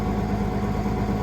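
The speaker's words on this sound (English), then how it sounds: "Just started the tractor up here." Tractor engine idling steadily just after start-up on a cold harvest morning, a constant low rumble with a faint mid-range hum, close and unbroken throughout.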